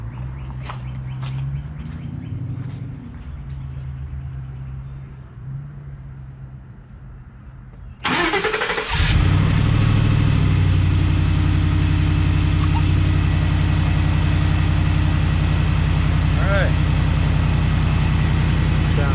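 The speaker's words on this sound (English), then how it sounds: "Just gonna turn this thing on." A 2016 Ford F-150 with a freshly replaced intake manifold and water pump cranks over, fires after a few seconds and settles into a loud, steady, smooth idle that continues to the end, with faint ambient sounds before the start.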